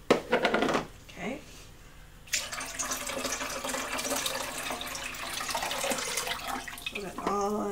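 Black-and-white film developer is poured out of a developing tank into a sink, a close, splashing gush of liquid running for several seconds between bursts of talking.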